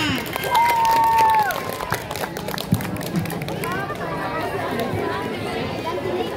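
School debate audience at MTsN 1 Mamuju applauding candidate pair 04, a burst of clapping and cheering mixed with chatter and crowd babble, fading into murmuring as a voice speaks.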